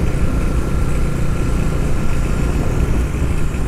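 A Bajaj Dominar 400 motorcycle engine running on a test ride, a dense, steady roar heard close and loud with no clear rise or fall in revs and no voices.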